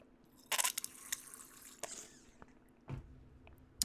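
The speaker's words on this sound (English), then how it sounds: "if you're hearing that sound, that's just my my squirt bottle, water bottle" A handheld squirt water bottle sprays in a few short, crisp hissing bursts, close by, with quiet gaps between and faint game sounds behind.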